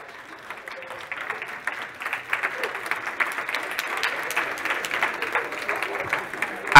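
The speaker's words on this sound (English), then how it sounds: "everybody else is going to clap for you" Applause from an education event audience for award winners, starting soft and building into steady, sustained clapping across the room, with some voices mixed in.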